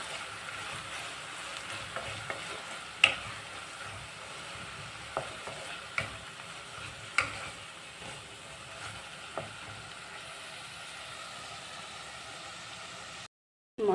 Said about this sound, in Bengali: হালকা নেড়ে চেড়ে নিতে হবে